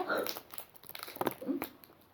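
A plastic snack wrapper crinkles and crackles in short bursts as it is pulled open by hand, close by, while children talk over it.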